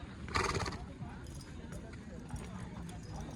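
A horse at an Indian horse sale, one of a group of Nukra horses brought to be sold, whinnies loudly early on while hooves clip-clop steadily on the ground, amid crowd noise and people talking.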